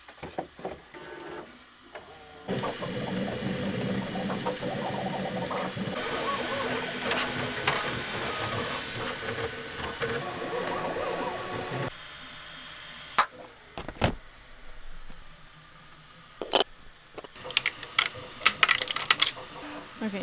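Desktop 3D printer at work on plastic Christmas ornaments, a steady mechanical whir with stepper-motor buzzing that shifts in pitch, then quieter stretches broken by sharp clicks and taps near the end.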